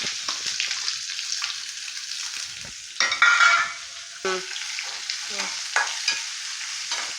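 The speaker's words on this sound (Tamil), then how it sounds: "கருவேப்பிலை சேர்த்ததும் வெங்காயம் சேர்க்குறேன்." Onions hiss and sizzle in hot oil in a wok with crackling curry leaves, with stirring scrapes and a louder burst of frying partway through, close up and with no talking.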